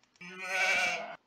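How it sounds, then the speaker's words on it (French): A single sheep bleat from the strategy game Age of Empires 2, one clear, close, wavering call lasting about a second. "Il y a des moutons là."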